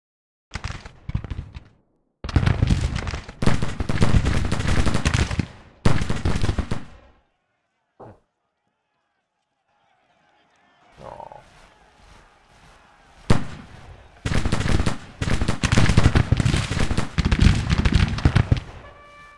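Rifle fire crackles at a regiment in a video game battle, dense rapid volleys of sharp loud shots in several bursts, separated by a few seconds of near silence and scattered quieter pops.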